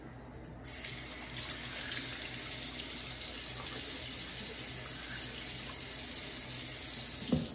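A sink tap runs steadily to wet the face before a wet shave. The water pours in a constant close rush with a small splash near the end.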